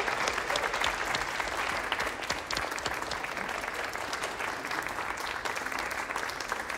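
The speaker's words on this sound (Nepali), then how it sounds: "जोरदार ताली प्लिज" Loud, sustained audience applause fills a music competition stage show, dense clapping continuing steadily throughout with crowd noise underneath.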